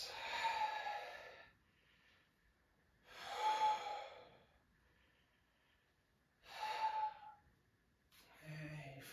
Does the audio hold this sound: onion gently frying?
no